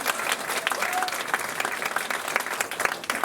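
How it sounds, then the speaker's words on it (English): An audience applauds at a Native American gathering as a participant is introduced, giving a steady burst of many hands clapping with distinct crisp claps over a crowd wash. "Let's give her a round of applause."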